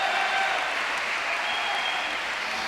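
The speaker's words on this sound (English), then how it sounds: "Crowd roar on the tin." Squash spectators at the 2019 Open de France in Nantes applauding and roaring after a ball strikes the tin, a dense sustained burst of clapping filling the whole moment.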